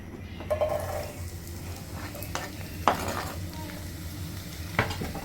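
Onions sauté in olive oil in a pan, with a low steady sizzle under scattered scrapes and clinks of a utensil stirring against the pan.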